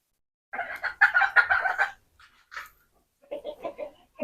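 Several chickens clucking close by in bursts, with a short pause between clusters of calls and no talk.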